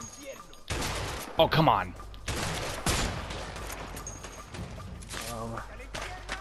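Gunfire rattles in bursts and single shots during a shootout in the video game A Way Out, with players talking and exclaiming over the shots at moderate, uneven loudness.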